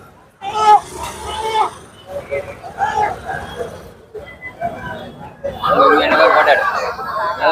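Native chickens cluck and squawk in bursts amid a busy poultry market in Nangavalli, with people talking nearby and the birds growing louder toward the end.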